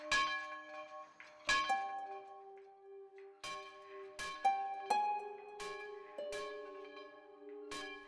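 A church bell rings in slow, irregular strikes, each sharp clang followed by a long, humming, tonal decay that overlaps the next; clear and isolated, with no voices.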